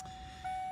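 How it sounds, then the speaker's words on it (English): A 1994 Ford F-250 XLT's ignition warning chime rings as a thin, steady electronic tone, faint and continuous under garage background noise. "this ignition beep won't go away even when I have the key out"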